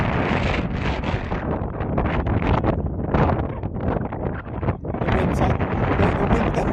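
Steady wind buffets an outdoor microphone at a Southern Conference Cup match, a loud, continuous broadband rush with gusty swells and one brief dip near the end, and no voices.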